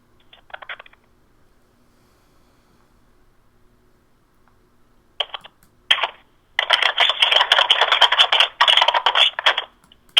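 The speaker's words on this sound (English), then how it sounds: "she's typing. I can hear that typing." Keystrokes on a computer keyboard: a short burst of taps early, then a dense, continuous clatter of fast typing through the second half, close and fairly loud in a quiet room.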